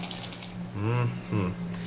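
Water from a tap or bottle poured into a measuring cup while cooking, a steady liquid trickle with two brief stronger gushes, close and fairly loud.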